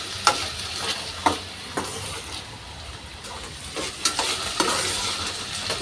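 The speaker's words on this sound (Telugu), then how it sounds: "చూడండి నెయ్యిలో అయితే అది ఫ్రై చేస్తున్నారు" Sweet corn fries in ghee with salt and chilli powder, a close, moderate sizzle broken by several sharp spatula clacks and scrapes against the pan at uneven intervals.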